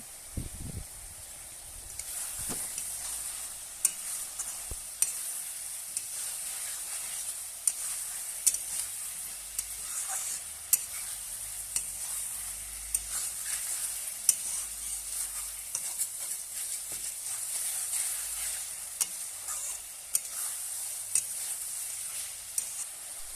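Chopped onion and green chilies sizzle in a pan with a continuous bright frying hiss. Sharp spatula taps and scrapes recur throughout, and no one speaks.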